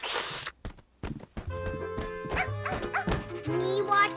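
A cartoon puppy barks and yips in short, bright bursts, with soft thumps between them and a character speaking over part of it.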